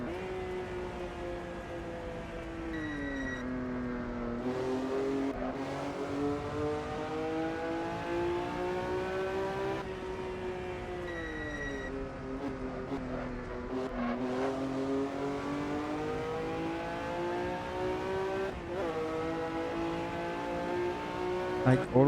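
A race car engine in Assetto Corsa, on the Pescara circuit, revs up and down repeatedly through gear changes, pitch climbing and dropping in sweeping waves, with tire noise at moments.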